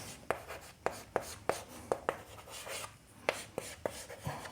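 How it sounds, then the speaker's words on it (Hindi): A pen scratches across paper in a quiet room, with short sharp strokes and taps repeating in quick, uneven rhythm at close range, no voices. "तो हम यहाँ पे लिखेंगे"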